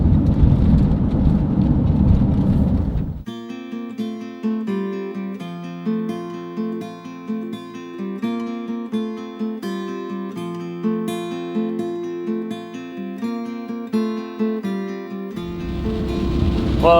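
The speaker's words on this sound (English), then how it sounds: "It has started raining pretty heavily, and I'm starting to see a lot of lightning." Heavy rain pours down hard during a thunderstorm around a camper van, a dense steady hiss that fills the opening seconds, gives way to music, then returns at the end.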